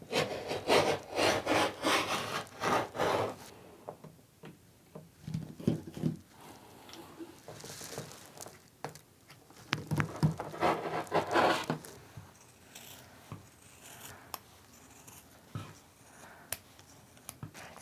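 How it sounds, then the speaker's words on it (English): Rotary cutter and scissors cutting quilting fabric for a charm pack Christmas stocking: repeated rough scraping and snipping strokes in close, uneven bursts with pauses between them, no talking. "I do go ahead and use the rotary cutter on the straight edges, and then I will transfer over to scissors for the rest of it"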